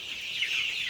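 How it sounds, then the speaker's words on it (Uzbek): A flock of 45-day-old chicks chirps continuously, a dense overlapping chorus of high peeps without pauses. "Ko'rib turibsizlar, jo'jalar o'ta sog'lom, danay bo'lyapti."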